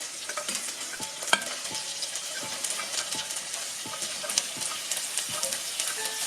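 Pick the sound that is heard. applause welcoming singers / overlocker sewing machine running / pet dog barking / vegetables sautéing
vegetables sautéing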